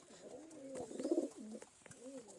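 Pigeons cooing nearby, a few soft throaty coos rising and falling over a quiet outdoor background with no talking.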